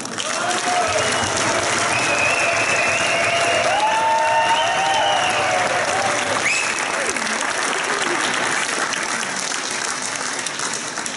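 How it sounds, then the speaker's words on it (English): A crowd at the opening ceremony of a karate tournament applauds the players, with steady massed clapping that runs loud and even for about eleven seconds while faint voices carry underneath. "Let's give them a big applause."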